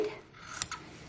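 Two quick, soft snips of scissors cutting through dress shirt fabric close by, set against a quiet room.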